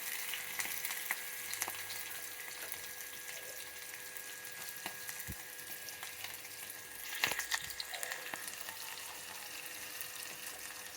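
Onions and green chillies fry in a pan for a mutton and drumstick curry, a steady soft sizzle with a few faint clicks and one brief louder clatter, no voices.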